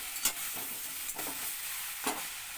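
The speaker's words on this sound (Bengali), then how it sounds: "এবার একটু এটাকে নেড়ে ছেড়ে দেবো" Radish ghonto, a Bengali dish, is stirred in a pan with a soft, even sizzle. Three or four brief scraping strokes from the spoon break through the quiet frying hiss.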